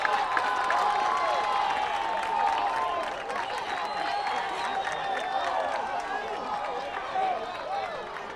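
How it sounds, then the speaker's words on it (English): A baseball crowd at a high school game between Brien McMahon and Norwalk cheers and claps after a triple, a sustained, dense roar that eases off partway through, with an announcer talking over it. "So that gives this crowd something to cheer about."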